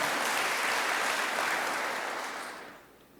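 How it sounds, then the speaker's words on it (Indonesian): A church congregation claps for God during an online worship service, dense sustained applause that holds steady, then thins and fades out near the end, with no speech. "Tepuk tangan buat Tuhan kita."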